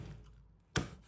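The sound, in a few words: knife chopping steamed chicken into pieces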